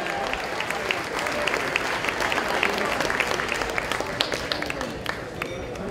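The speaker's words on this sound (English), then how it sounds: "Peter, let's give Peter a nice round of applause," An audience at a school signature event applauds Peter, a sailfish champion, with steady, dense clapping from a large crowd held at an even level throughout, slightly distant in a big room.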